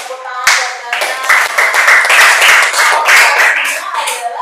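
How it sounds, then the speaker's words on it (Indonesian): A short burst of clapping from a classroom of students, a few seconds of brisk, uneven applause with voices mixed in. "tepuk tangan buat Dana."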